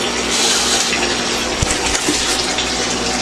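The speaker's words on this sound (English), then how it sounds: "I just installed a new automated water changing system." An automated water changing system for a fish pond runs steadily, a continuous close rush and splash of water filling, loud and unbroken, with no talking.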